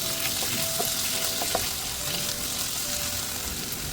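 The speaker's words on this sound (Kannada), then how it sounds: "ಆನಿಯನ್ ಇವಾಗ ಫ್ರೈ ಆಗಿದೆ, ಇದಕ್ಕೆ ಆಲ್ರೆಡಿ ಕಟ್ ಮಾಡಿ ಇಟ್ಕೊಂಡಿರುವ ಟೊಮೆಟೊನ ಆ್ಯಡ್ ಮಾಡ್ತಾ ಇದ್ದೀನಿ" Chopped tomatoes are added to fried onions in a pan for a special egg masala, a steady close sizzle with a few soft stirring clinks and scrapes, no voices.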